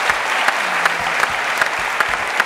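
Audience applauding an orchestra in a televised Turkish singing competition studio, dense sustained clapping with a few sharper individual claps popping out above the steady wash.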